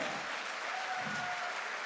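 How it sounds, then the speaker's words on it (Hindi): Listeners at a direct selling motivational event clap for themselves, a fairly faint, even patter of many hands, with a few brief tonal whistles or cheers riding over it. "एक बार खुद के लिए सबसे पहले तालियां बजाइए।"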